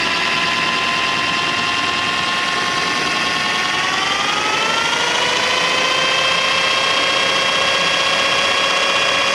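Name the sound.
drill running on a 1992 Sea Ray 380 boat shaft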